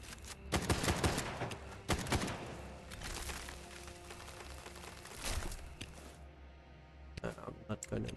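Rapid gunshots in a video game, sharp bursts of firing scattered through the scene at close range, partly under a voice talking.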